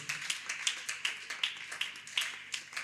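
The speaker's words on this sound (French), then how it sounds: "Acclame pour Jésus-Christ. Acclame pour Jésus." A church congregation claps loudly in a quick, uneven burst of many hands, with soft cheering mixed in and no speech over it.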